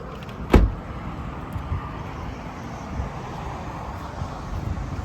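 A single sharp thud of a 2019 Mazda CX-5 Touring door shutting stands out near the start, followed by steady outdoor wind and low rumbling ambience with a few faint knocks.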